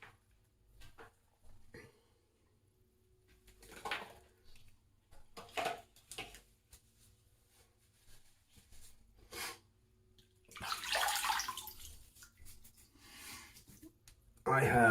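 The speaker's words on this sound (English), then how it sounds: "let me go ahead and wet the face" Water splashes in a few brief bursts as a man wets his face before a wet shave, with quiet breathing and small movements in between, close and fairly soft.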